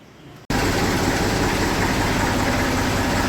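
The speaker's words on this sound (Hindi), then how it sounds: "ट्रैक्टर हो गया है स्टार्ट।" A Massey tractor engine catches after a brief quiet moment and settles into a loud, steady idle, a continuous close rumble with no talk over it.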